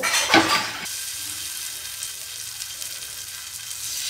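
Marinated elephant foot yam pieces go onto an oiled griddle, a short burst of clatter and spatter giving way to a steady, even sizzle of frying in oil, close by with no voices.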